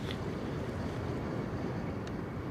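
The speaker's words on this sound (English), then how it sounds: "It's way too windy." Strong wind buffets outdoors beside the Westerschelde river in the Netherlands, a constant low, rumbling roar across the microphone with no talking.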